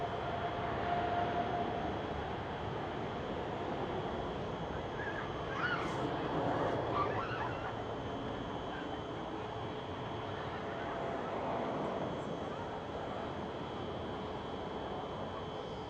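A KLM Boeing 787-9 jet departs Schiphol Airport in Amsterdam as a steady, broad engine roar that holds at a moderate distance without fading throughout.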